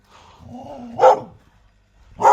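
Two loud, close barks about a second apart from a dog tied up on a chain outdoors by cottages, the first preceded by a low growl, then silence.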